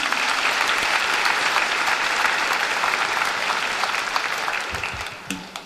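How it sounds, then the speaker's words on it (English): Audience applause at a 2017 Cumberland County High School graduation ceremony, a sustained dense clapping from a large crowd that tapers off near the end. "Give them a round of applause, please."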